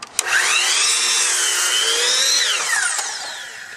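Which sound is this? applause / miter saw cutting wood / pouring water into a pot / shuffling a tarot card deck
miter saw cutting wood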